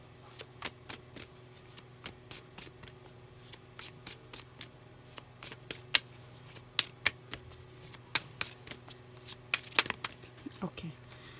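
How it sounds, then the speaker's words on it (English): Tarot cards being shuffled by hand, close and crisp, with a rapid irregular series of riffling slaps and flicks continuing throughout over a low steady hum. "I hope you can see me shuffling."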